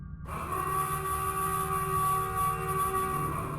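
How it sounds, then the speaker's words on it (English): A loud, piercing siren wails steadily through a forest, holding a sustained tone with a sharp onset and echoing over the woods without pause. "the loud, piercing siren echoed through the forest again"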